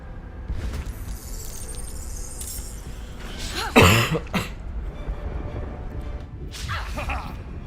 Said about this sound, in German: diesen blöden Husten kriege ich